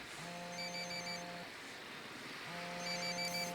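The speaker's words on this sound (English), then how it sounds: "Sounds like a phone." A telephone rings inside a building in the game Ghost Recon, two electronic ring bursts with a pause between them, fairly faint over a low background hum.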